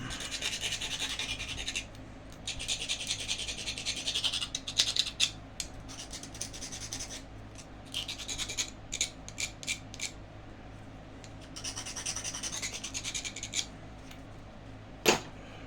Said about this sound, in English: Need to sharpen my antler a little bit.